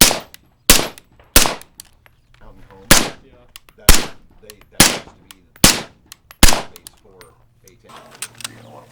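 Suppressed .308 rifle shots using 147 grain PMC Bronze ammunition through a PSA Jackal 14.5-inch barrel fitted with a can, firing eight loud, sharp reports at a steady pace of roughly one shot every second, each followed by brief echo.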